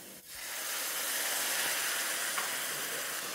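Tomatoes added to a hot curry pan erupt into a loud, continuous hissing sizzle with billowing steam, a steady close-up roar that swells right after a brief start and holds evenly.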